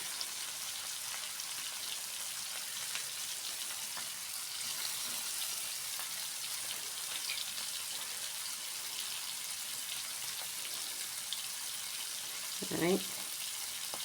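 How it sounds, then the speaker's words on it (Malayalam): Oil sizzles and crackles steadily in a pan as sardines fry, a soft hiss throughout, with a brief clatter near the end. "മത്തിയും കൂടി വറുക്കാൻ തന്നു"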